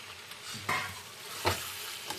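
Chicken goes into a pan of browned onion, ginger and garlic and is stirred, soft scraping strokes over a faint steady sizzle, quiet and close with no voices.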